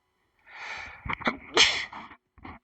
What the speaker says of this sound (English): The sneezing